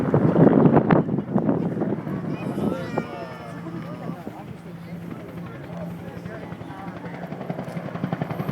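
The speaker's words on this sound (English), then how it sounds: "That would have been the shot if we got that helicopter." Helicopter flies over the scene of a massive fire and explosion in San Bruno, California, a steady rumbling drone with rhythmic rotor thumping under wind noise and several nearby people talking.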